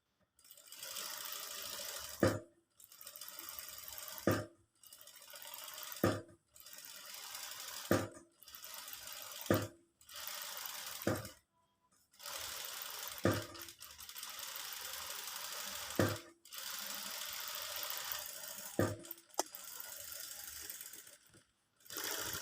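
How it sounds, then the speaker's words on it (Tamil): Sewing machine stitching an embroidery blouse: repeated short bursts of quick mechanical whirring, each ending in a sharp click, separated by pauses, close and fairly quiet. "இப்போ நான் வந்து இன்னொரு தையல் போட போகிறேன்."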